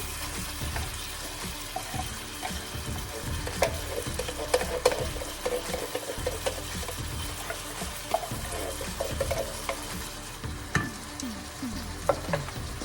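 Canned tomatoes go into a pan of sizzling chicken and chorizo and are stirred, giving a steady close frying hiss with wet stirring and scraping sounds, without any talk.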